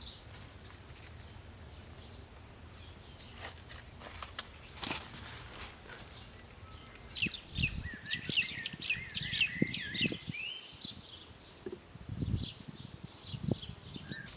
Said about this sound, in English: So that bird was a kaka.